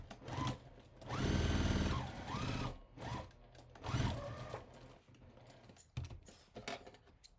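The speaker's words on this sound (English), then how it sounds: "So I am just going to sew these strips together flat." A sewing machine stitches apron fabric strips together in short bursts of rapid mechanical whirring that start and stop, separated by brief pauses and small handling clicks, close and moderately loud.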